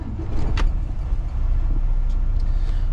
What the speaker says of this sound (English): I go ahead and start the truck.